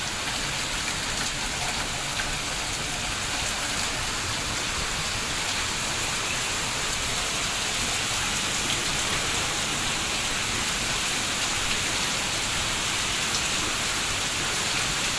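Heavy rain driven by wind pours down on a rural road, a dense, steady hiss of falling water that stays loud and even throughout, with no voices.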